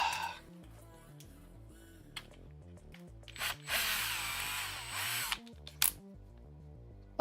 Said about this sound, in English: Drill number 4. A right angle drill.